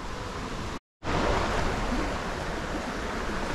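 A mountain stream flows beside a shady rest spot on the trail to Lake Zhasylkol in Kazakhstan's Zhetisu region, giving a continuous close rushing wash with one brief dropout.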